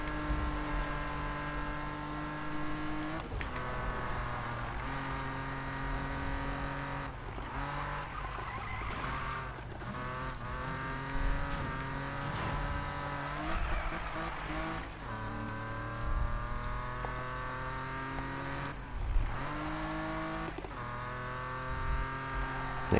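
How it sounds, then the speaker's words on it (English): A BMW races in the Need for Speed video game, its exhaust giving a steady harmonic drone that rises and falls through revs and shifts, with skidding tyres at moments and no talk. "Exhaust sounds nice."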